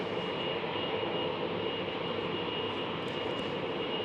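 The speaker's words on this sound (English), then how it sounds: "The Air Astana A321 Neo starting up." Steady, broadband roar of an Air Astana Airbus A321neo airliner starting its engines at an airport gate, a continuous even wash of engine noise with no breaks over a few seconds.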